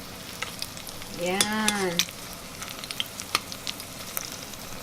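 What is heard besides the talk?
dried fish frying in hot oil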